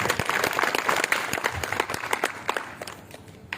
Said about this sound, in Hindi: अपने लिए जोर से तालियां बजाओ।